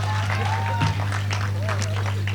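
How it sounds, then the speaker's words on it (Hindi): Crowd claps at a Hindi comic poetry gathering held at a dental college, a steady spread of applause under a constant low electrical hum, with voices speaking over it and faint pitched tones drifting through. "एक बार जोरदार तालियां बजा दीजिए"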